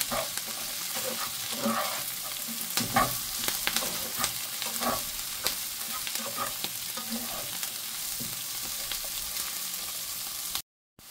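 Leek and thyme sizzle and fry steadily in a pan while being stirred, with frequent scraping and clinking of the spoon against the pan throughout, ending abruptly in a brief silence.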